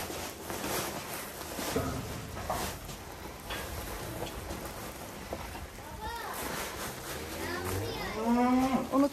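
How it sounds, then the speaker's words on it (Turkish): Cattle kept as sacrificial livestock on a farm moo repeatedly, with several drawn-out calls rising near the end. Background clatter and people talking run underneath throughout. "yine buradaki hayvanlarımız da kurbanlık hayvanlarımız"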